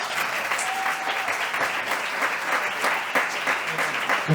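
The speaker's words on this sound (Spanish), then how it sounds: "Un aplauso." A school audience in Candás, Asturias claps in steady, dense applause that runs throughout without a break, loud and close.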